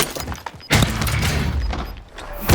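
Sharp, loud explosion bursts from Call of Duty gameplay, one blast followed by rumbling debris and another hit near the end.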